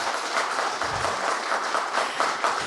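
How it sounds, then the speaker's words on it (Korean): An audience at a research award ceremony applauds steadily, a dense, moderately distant wash of clapping that holds even throughout with no voices over it. "다시 한번 큰 박수 보내주시기 바랍니다"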